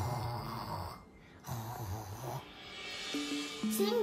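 A voice imitates a deep, drawn-out snore over soft background music with gentle melodic tones.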